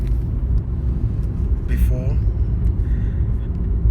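A low, steady rumble fills a car's interior while it drives, continuous beneath someone talking.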